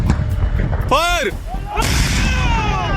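Artillery fire in Afghanistan: heavy blasts and a rising-then-falling whistling tone, followed by a sustained, loud, rumbling roar.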